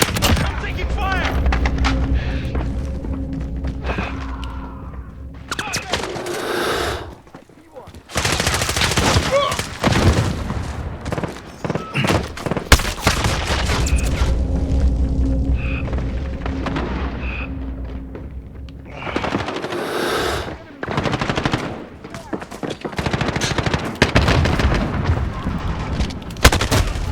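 Bursts of automatic rifle and shotgun fire crackle in Call of Duty multiplayer near a construction site, loud and near, with dense volleys and brief pauses.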